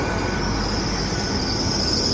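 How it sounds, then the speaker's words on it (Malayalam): Train arriving at a railway station in Scotland, a loud, steady rumble of rolling wagons with sustained high wheel squeal and no pauses. "അതെ, നമ്മുടെ ട്രെയിൻ വന്നിട്ടുണ്ട്."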